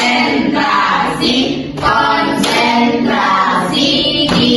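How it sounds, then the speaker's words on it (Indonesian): A class of students in a mini-classroom teaching practice claps together in a concentration clapping game, with dense rhythmic hand claps in repeated bursts under loud group chanting voices, close and continuous. "tepuk konsentrasi"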